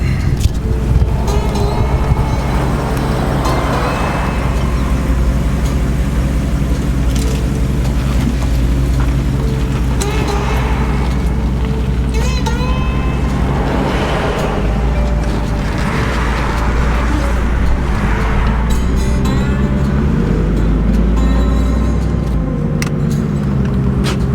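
A Chevrolet Trailblazer SS engine running with the air conditioning off, a steady low idle rumble that stays loud and close throughout, with occasional faint noises over it and no talk.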